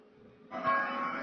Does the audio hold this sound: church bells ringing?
yes